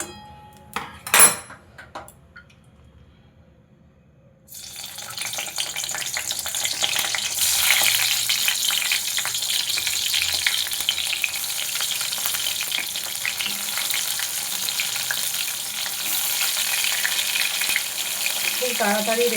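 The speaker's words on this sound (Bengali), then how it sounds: "বেগুনগুলো আমি সরষের তেলে ভাজবো।" Eggplant pieces frying in mustard oil in a wok set up a loud, continuous sizzle that keeps going without a break. A short clatter and a few seconds of near-quiet come first.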